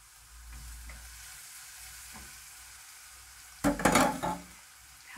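Onion frying in farm ghee sizzles softly and steadily in a pan, then a burst of louder stirring and scraping near the end.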